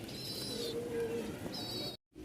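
Lahori pigeons, two pairs at a fancy pigeon farm in Mirpur, give soft low coos amid steady background noise, with thin higher bird chirps above.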